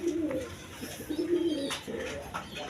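Black-necked pigeons, a pair kept at a farm, coo in low repeated phrases, three or four bubbling calls close by against a faint background hum.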